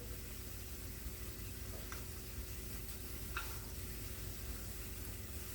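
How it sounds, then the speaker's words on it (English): Plantain chips fry in coconut oil in a pan, giving a faint, steady sizzle with a couple of soft clicks as they are turned over. "So I'll go ahead and flip my plantain and continue to flip."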